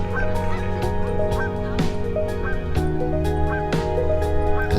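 Geese and other birds honk and call repeatedly at a flooded Santa Fe Dam, with several overlapping calls from different distances over steady outdoor background noise.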